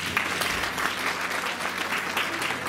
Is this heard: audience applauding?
yes